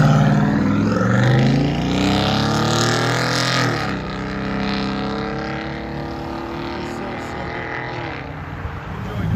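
A lifted 2015 Chevy Silverado with a 6.2-liter V8 and Flowmaster 40 Series dual exhaust with 4-inch tips, rumbling loud and close, with a deep throaty idle that swells and then settles into a steady drone.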